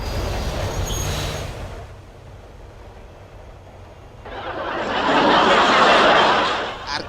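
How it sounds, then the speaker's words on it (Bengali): A train decelerates into a station, its broad rumbling rolling noise fading to a low lull before a loud, hissing surge of wheel and brake noise builds and then tapers off. "ট্রেন এখন স্টেশনে থামবে"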